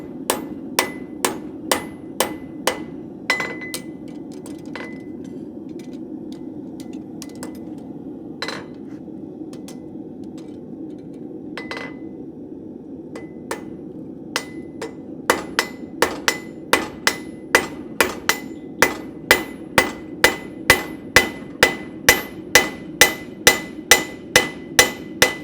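Hot metal is hammered over the corner of an anvil in a blacksmith's shop. Sharp ringing strikes come in irregular bursts, then settle into a fast, steady rhythm near the end, loud and close with no voices.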